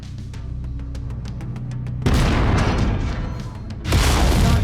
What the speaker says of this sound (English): Go ahead and destroy the center torso